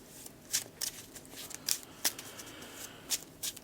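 Playing cards being shuffled during a Marvel Champions card game, a series of quick crisp riffling bursts at irregular intervals, close and fairly quiet, with no talk over them.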